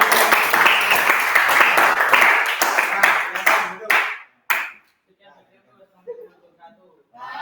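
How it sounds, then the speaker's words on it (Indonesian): A classroom group claps hands together loudly for several seconds, the applause breaking off into a few scattered late claps before quiet voices and light chatter resume. "kita kasih tepuk tangan dulu"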